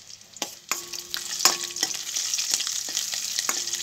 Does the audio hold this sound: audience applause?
no